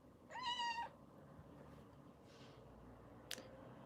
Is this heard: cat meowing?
yes